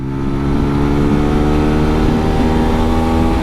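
A motorcycle engine drones loudly and steadily, its pitch climbing gradually as it accelerates toward about 80 km/h.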